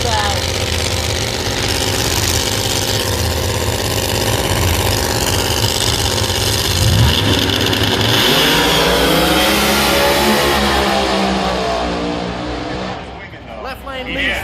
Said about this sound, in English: Nitrous coming out of the car on the close side.